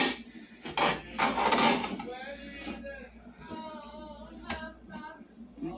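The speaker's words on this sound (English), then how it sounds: "Just cut these into strips, and these will cook a lot faster." Knife slicing raw chicken into strips on a cutting board, a close rasping, rubbing scrape with a few louder strokes early, then quieter cutting sounds.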